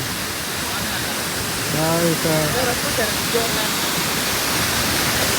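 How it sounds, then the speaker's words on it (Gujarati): At Devghat waterfall, water rushes forcefully in a steady, loud, broadband roar that fills the whole scene, while a voice speaks briefly over it. "કેટલી ગતિથી પાણી આવે છે તમે જો"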